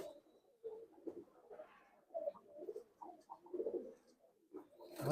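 Pulsar-breed pigeons in a loft give several soft, throaty coos in short phrases with quiet gaps between, close and fairly faint against a still background.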